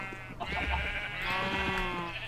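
Sheep bleating in the Minecraft modpack SevTech Ages, a close, continuous wavering bleat that lasts a couple of seconds over faint background game noise.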